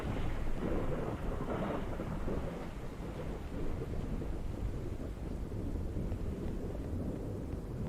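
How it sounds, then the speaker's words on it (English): Thunder in a horror video game gives a continuous low, rolling rumble with rain-like hiss, fairly faint and steady throughout, with no voices over it. "let's see the thunder cracks"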